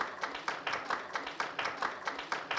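An afternoon audience at a charity mile draw applauds, with rhythmic, fairly distant clapping that pulses in regular waves throughout and no voices over it.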